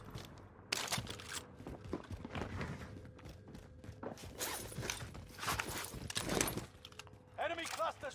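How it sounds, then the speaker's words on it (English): Footsteps from a player moving overhead in a Call of Duty match, a series of soft irregular steps and scuffs mixed with game noise and someone talking over them. "You hear the footsteps above you."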